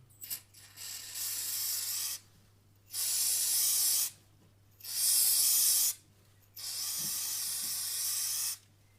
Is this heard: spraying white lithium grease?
yes